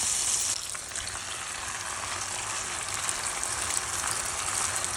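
Egg poured over chicken sizzles in a pan for a protein roll, a soft, steady hiss that carries on evenly throughout with no voices.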